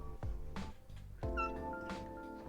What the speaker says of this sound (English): Today we hunt for the illustrious Milo, because he's a pretty kitty.